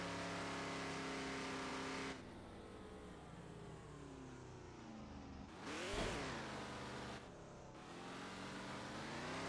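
Car engine from the Nightmare Drive video game, a steady droning hum with harmonic whine that shifts pitch as it revs up and down, including a sharp rising surge near the middle.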